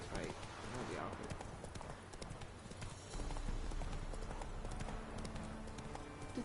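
Roach the horse gallops in The Witcher 3, with steady rhythmic hoofbeats and clip-clop up close. A voice talks over the hooves, and the pounding grows heavier partway through.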